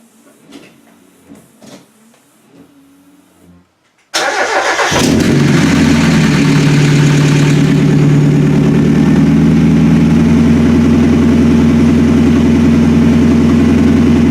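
Quiet clicks and fiddling, then an old car's engine, previously squealing, cranks and catches with a loud roar before settling into a steady, rumbling idle that continues to the end.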